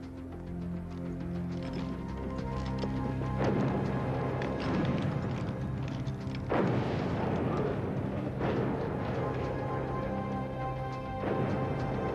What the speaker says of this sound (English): Can you tell where the barrage is coming from?